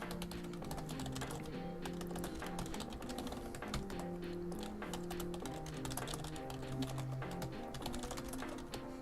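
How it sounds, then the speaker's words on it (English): Quick, irregular clicks of typing on a computer keyboard run steadily throughout, sitting under continuous background music with a sustained tonal bed. "So we'll get it typed in here."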